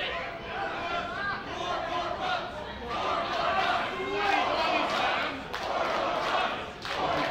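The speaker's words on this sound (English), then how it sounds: "There you go, the crowd echoing us." A large wrestling crowd at a live Toronto pro-wrestling show chants loudly and steadily after a body slam, the rhythmic voices filling the arena for several seconds, with a lively, echoing roar throughout.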